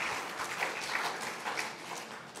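A church congregation claps together in a dense, sustained wash of applause that sounds somewhat distant and fairly quiet and stays even throughout.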